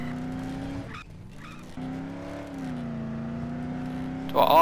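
A car in the video game Dead Island drones along with a steady engine note, cutting out briefly twice and rising in pitch toward a louder burst at the end, close and clear.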